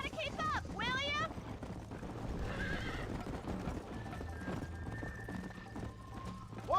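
Hooves of a horse galloping in Red Dead Redemption clatter in a steady, fast clip-clop, close and loud, with a whinny near the start and a brief whistling tone later.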